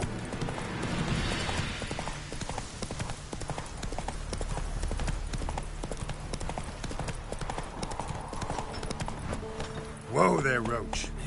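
In The Witcher 3, a horse's hooves clip-clop in a steady rhythmic gait throughout. A voice speaks briefly near the end over the hoofbeats.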